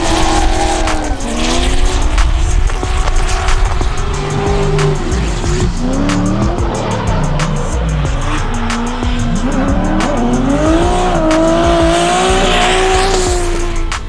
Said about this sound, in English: Liam putting in another solid lead run, the FC RX7 trying to hang in behind